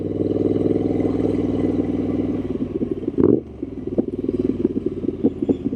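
A Triumph Street Scrambler 900 motorcycle engine idles with a steady throb, then is blipped in a sharp rev around the middle, followed by a lumpy, uneven idle with crackling pulses, close and fairly loud.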